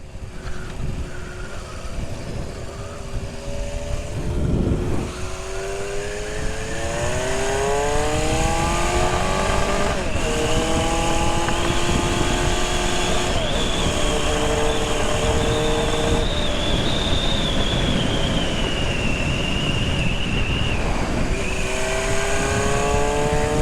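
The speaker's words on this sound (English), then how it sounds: "We're riding the Club Sport CB750 for the first time in months after the crash." Honda CB750 Club Sport motorcycle engine running loud and close while being ridden, rising and falling through gear shifts with repeated revving climbs, steady throughout with no talk.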